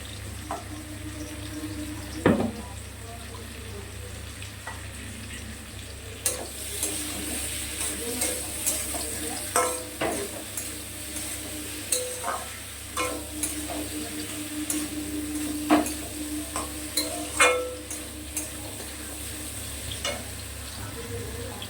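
Poppy seed paste fries in oil with a low, continuous sizzle while a spoon stirs and scrapes the pan in scattered strokes, joined by occasional knocks and clatters nearby.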